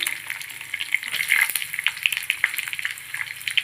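Chopped onion sautéing in hot oil with chilies and curry leaves for a gram-flour Bombay chutney: a steady, soft crackling sizzle with light stirring scrapes throughout.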